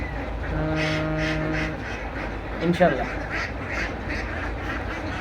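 Ducks quacking on a duck farm, several quacks in rapid runs in the background while someone talks over them nearby.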